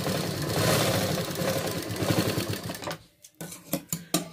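A sewing machine stitches a lined blouse with four tucks, a quarter-inch seam allowance, running in a steady close whir for about three seconds before stopping, followed by a few short clicks and bursts.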